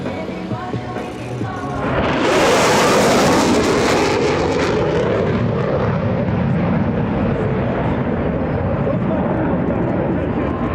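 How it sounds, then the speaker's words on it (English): An EA-18G Growler jet climbs steeply at an EAA AirVenture airshow, its engines swelling from a distant rumble into a loud, sustained roaring blast after about two seconds, with a commentator's voice over a public address underneath. "the Growler will rocket straight up"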